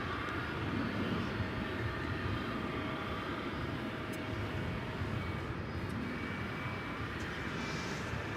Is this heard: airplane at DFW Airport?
yes